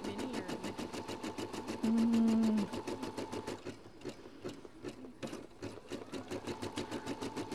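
Brother 990D embroidery machine stitching steadily, a fast even needle rhythm running close and clear throughout, with a brief lower hum partway through.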